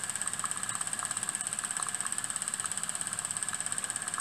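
A small model steam engine with a red-painted cast bronze base runs steadily, giving a fast, even mechanical chuffing pulse under a constant high whine, quiet and close.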